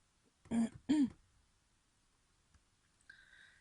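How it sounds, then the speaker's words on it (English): Two short, harsh throat clears close to the mic, followed by quiet, then a faint tonal beep near the end. "my throat is acting up, so aside my usual coughing"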